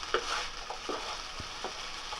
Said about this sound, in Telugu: రైస్కి బాగా కలిసేటట్టుగా కలుపుకోవాలి.